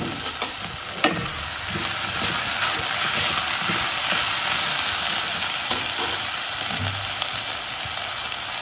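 Curry leaves sizzle in hot oil in a pan while cabbage kurma is cooked, giving a steady, loud frying hiss with a few sharp pops and crackles near the start.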